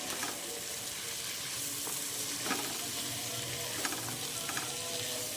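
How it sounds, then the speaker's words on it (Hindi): Chopped onions are stirred and fried in a pan while preparing chicken Manchurian, giving a steady low sizzle with a few scraping stirs of a spoon. No one speaks. "साथ ही इसमें मैं कटा हुआ इस तरह से प्याज डाल दूँगी। मिक्स कर लेंगे।"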